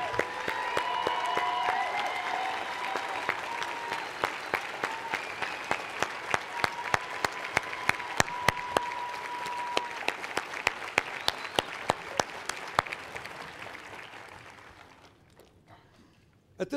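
Sustained applause from a large commencement crowd honoring law school faculty, with dense clapping that gradually thins and fades out in a big hall.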